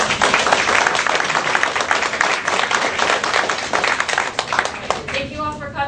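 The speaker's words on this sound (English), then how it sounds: "Let's give Dr. Stoll a round of applause." Audience applause for Dr. Scott Stoll after a plant-based health talk, a dense, steady crowd clapping sustained throughout and tapering slightly near the end, with a few tonal sounds entering at the close.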